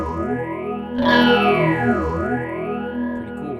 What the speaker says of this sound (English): let's bring that phaser in